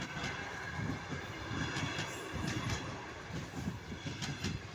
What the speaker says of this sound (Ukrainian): Я сам тільки що злякався, що поїзд їде.